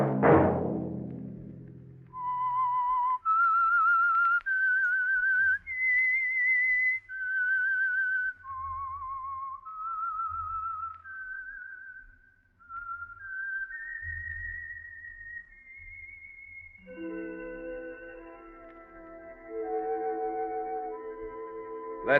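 A whistled theme melody serves as the signal for the Signal Oil radio program The Whistler, heard as a clear solo whistle in a rising and falling tune of sustained notes, with orchestral music joining near the end.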